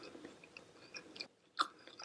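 Close, crunchy chewing of Costco veggie bites seasoned with onion and garlic, soft steady mouth sounds with a brief pause and then a sharper crunchy bite near the end.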